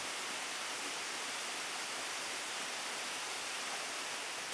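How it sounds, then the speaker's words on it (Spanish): Waterfall at Cascada del Lindero near San Andrés, Santander, a dense, even roar of falling water filling the scene, steady and unbroken with no voices. "en la cascada del Lindero"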